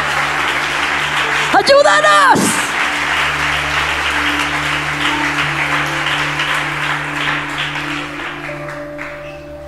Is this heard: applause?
yes